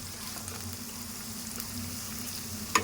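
Onions fry in a pan on a gas flame turned low until they go brownish, giving a steady, soft, even sizzle with a faint clink near the end.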